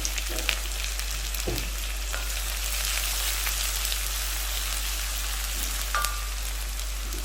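Methi seeds and finely chopped shallots frying in hot oil, a dense, continuous close-up sizzle like steady rain, with a few faint clicks of a utensil and no voices.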